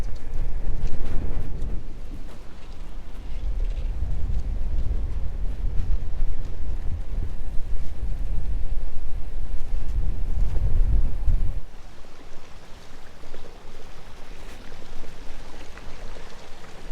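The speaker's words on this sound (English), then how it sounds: "I'm really hoping that the wind goes to sleep here soon" Strong wind buffets the microphone as a cyclist rides at night in France, a loud, constant low rumble that eases noticeably near the end, with no speech.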